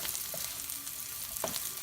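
Diced onions sizzle steadily in a pot for a one-pot family meal, with a continuous broadband crackle and a couple of brief scraping stirs, no voices.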